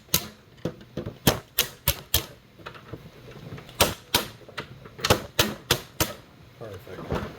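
A Stanley Power Lock 2 tape measure is used as a makeshift hammer to tap parts into a carrying case, giving a series of sharp, close knocks in irregular bursts, some in quick pairs and triples, across several seconds.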